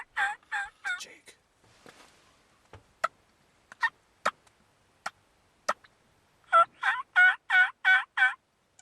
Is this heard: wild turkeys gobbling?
yes